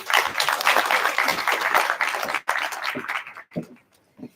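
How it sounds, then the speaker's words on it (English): Audience applause at an economic growth forum, broad dense clapping for about two and a half seconds, then breaking into scattered, thinning claps that fade out. "Would you please give them a round of applause?"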